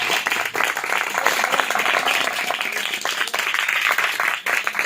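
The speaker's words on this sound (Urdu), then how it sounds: "زوردار تالیاں خدا کے جلال کے لیے، روح القدس کے لیے، پاکرو کے لیے." A church congregation at a worship service applauds loudly and continuously for the whole stretch, dense clapping from many hands close by with a voice faintly beneath it.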